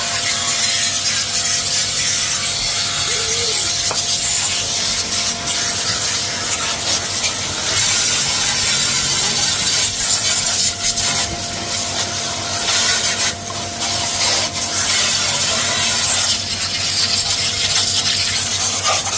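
A KCA Italy commercial pressure washer blasts a steady, loud, broadband hiss of water onto a dirty outdoor AC unit, unbroken for the whole stretch with no talking.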